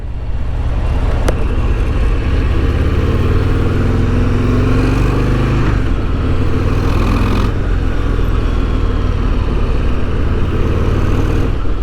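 A 2024 Harley-Davidson Breakout 117 rumbles steadily while being ridden, its loud, continuous low engine drone close and unbroken, with slight shifts in pitch as the bike changes speed.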